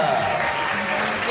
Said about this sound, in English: Big round of applause to Lilia Hagler!